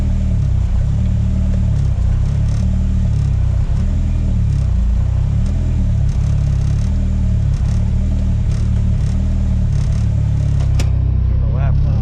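Race car engine running loud and close with a rough, pulsing idle rumble that rises and settles in waves, a faint voice nearby and a sharp click near the end.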